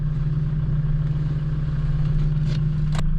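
A low, steady engine idle of a used Hyundai Porter II truck hums quietly and evenly throughout, with a faint clatter and a brief rattle near the end.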